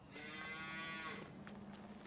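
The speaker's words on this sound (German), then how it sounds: "Ich muss die Kühe verkaufen. Aber wie?" Cows moo in a farming video game, one long low bellow followed by a fainter second call, quiet and alone with no speech.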